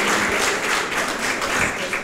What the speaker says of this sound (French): Je pense que ça mérite encore des applaudissements.